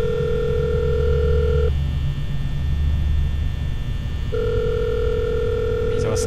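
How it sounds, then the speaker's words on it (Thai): A phone rings in the video game Five Nights in Anime, a steady electronic ring tone that sounds twice with a gap between, over a constant background hum. "มีโทรศัพท์เข้ามาครับ"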